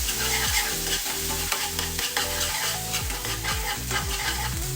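Red chilli powder and cream sautéing in a kadai for restaurant-style kadai paneer, a loud steady sizzle with rapid rhythmic scraping and stirring strokes throughout, close and without voices.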